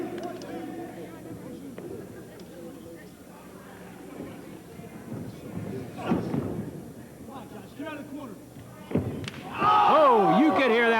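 A pro wrestler is slammed onto the ring mat with a heavy thud at a live World League Wrestling event. The thud comes out of crowd noise and commentary, and a loud cheer follows.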